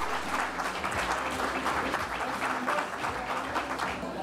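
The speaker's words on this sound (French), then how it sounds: "Et une bonne main d'applaudissement pour les gens de la catégorie Le Performant." An audience at a press conference announcing gala finalists claps steadily in a continuous, moderately distant round of applause that holds throughout.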